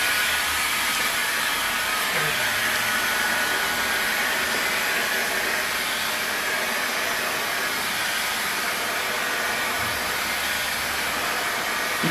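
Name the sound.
heat gun heating and shrinking vinyl wrap film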